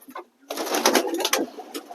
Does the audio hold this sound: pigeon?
yes